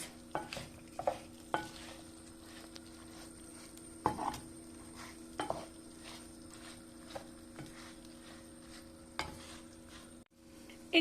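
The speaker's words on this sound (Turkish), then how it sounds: "Güzelce karıştırıyoruz." Cooked meat is stirred into toasted rice in a pot for saffron pilaf, a dozen scattered spoon scrapes and clacks against the pot, quiet and irregular over a faint background hum.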